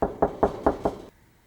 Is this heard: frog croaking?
no